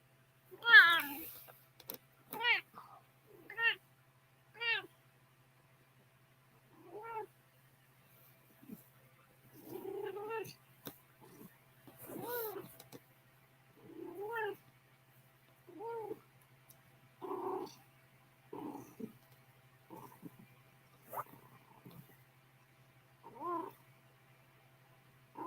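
A cat meows repeatedly indoors, a series of short separate cries spread across the stretch, close and fairly quiet over a faint steady hum.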